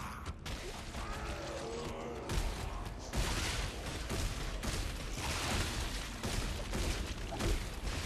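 Gunfire from a gun in Dead Space 3 crackles in scattered, mechanical-sounding bursts at moderate distance, layered with clanks and thuds over an eight-second stretch.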